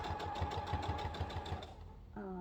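A sewing machine stitches quilt fabric in a fast, even run of mechanical pulses, close and fairly quiet, stopping near the end as a brief tone sounds.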